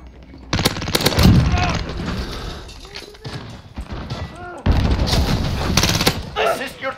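Rapid automatic gunfire bursts in a Call of Duty: Modern Warfare multiplayer match, loud and close, with heavy impacts and a second volley after a short lull, mixed with game voice callouts.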